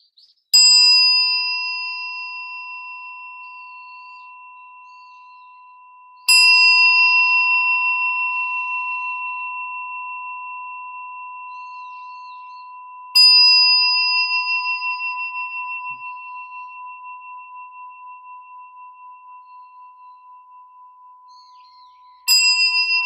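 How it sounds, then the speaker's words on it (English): A meditation bell is struck four times at roughly six-second intervals to open a Zen Zazen sitting, each clear metallic tone ringing out and slowly decaying in an otherwise silent room. "I will now ring the bell to begin Zazen."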